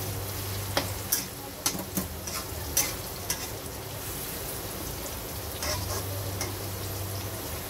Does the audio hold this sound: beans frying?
yes